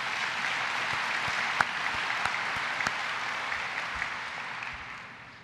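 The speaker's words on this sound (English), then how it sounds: "Please join me in a round of applause" An audience at a State of the Port event gives the port team a round of applause: steady, dense clapping from many hands across a hall, fading slightly at the end with no speech over it.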